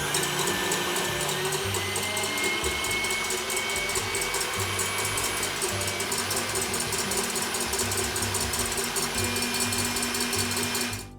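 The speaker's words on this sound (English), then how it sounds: "We're going to start with 1 egg white. Just put that into a mixer." A stand mixer whips a single egg white for meringue, its motor whirring steadily and loudly with a rapid beating rattle and no talk.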